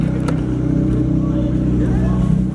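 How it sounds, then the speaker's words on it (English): The V8 engine of a rare Ferrari, one of three built, starts and settles into a deep, steady, close rumble with a rich harmonic hum that stays loud and even throughout. "Engine start."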